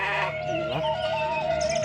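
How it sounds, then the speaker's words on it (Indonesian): Village goats bleat, a loud, close, wavering bleat that rises and falls and then continues, heard alone without talk in a quiet rural setting. "ternak warga yaitu kambing."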